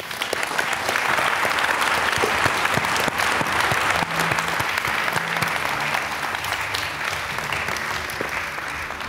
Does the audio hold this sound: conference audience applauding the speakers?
yes